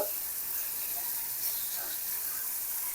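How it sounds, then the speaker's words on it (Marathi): Chopped onion frying in oil in a home kitchen until reddish, a steady soft sizzle and hiss that stays even and fairly faint throughout, with no voices. "तर हा कांदा आपल्याला छान असा तळून घ्यायचा"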